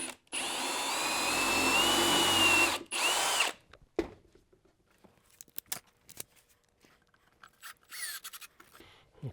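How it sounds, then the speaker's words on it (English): A power drill countersinks and drives screws into wood for an under-sink trash and compost cabinet: a loud sustained whir for about three seconds, then short intermittent bursts and clicks as the screws seat. "I'm going to countersink it and drive in about 4 or 5 screws on each"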